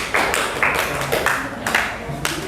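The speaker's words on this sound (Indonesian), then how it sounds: "Tepuk tangan untuk kelas kita hari ini." A classroom of students in Indonesia claps in short bursts of scattered applause, fairly close and loud, with a voice talking over the clapping.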